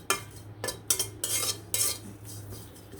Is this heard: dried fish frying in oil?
yes